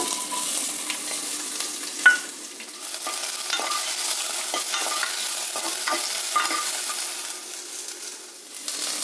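Curry leaves, asafoetida and onion sizzle and crackle steadily in hot oil in a home kitchen pan, with a few sharp clinks and stirring scrapes, close and fairly quiet throughout.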